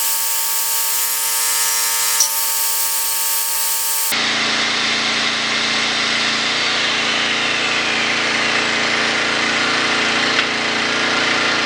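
A Craftsman generator with a 10 horsepower motor runs loud and steady at close range, its droning tone shifting abruptly partway through, then continuing as a rough, even hum.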